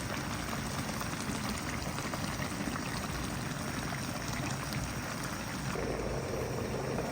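A pot of tinolang manok, chicken soup with lettuce and salt, simmers in a steady, even bubbling hiss that runs unbroken and alone.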